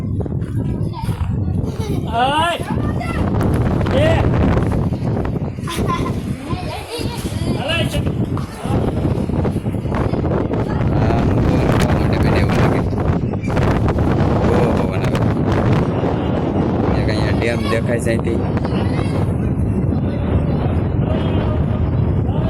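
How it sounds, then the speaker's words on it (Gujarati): Strong wind buffets the microphone at a hilltop temple site near Bhaguda, a steady loud roar lasting throughout while someone talks over it. "બહુ એટલે બહુ સરસ પવન આવે છે."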